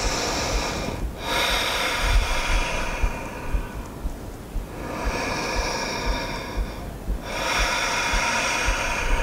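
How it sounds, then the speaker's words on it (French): Slow, deep breathing during a yoga practice, long audible inhales and exhales close to the microphone, three or so full cycles with no speech. "On va prendre 2 respirations ici."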